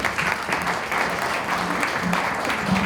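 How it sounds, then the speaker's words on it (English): Audience clapping for speaker Joanne at a professional advisors' philanthropy workshop in Colorado, a steady, even round of applause from a roomful of people, fairly close and sustained, with faint voices underneath. "a round of applause for Joanne"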